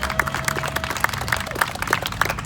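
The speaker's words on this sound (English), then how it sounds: "Let's give her another warm round of applause." An audience at a multicultural George Floyd march in Carbondale, Illinois claps in a light, fairly sparse patter of applause, moderately close and lasting throughout.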